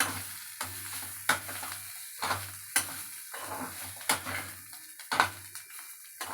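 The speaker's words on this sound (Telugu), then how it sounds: "అవిసి గింజల పొడి అండి వేసాక కలుపుకోవాలండి" Spoon stirring Aagakarikayi curry in a pan after flax seed powder goes in, a series of soft scraping strokes in a repeating rhythm over a quiet simmering hiss, close and fairly faint.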